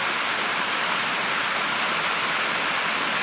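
Homemade deer bone broth is strained, giving a steady, continuous rush of pouring and splashing liquid that stays fairly loud and even throughout, with no talking.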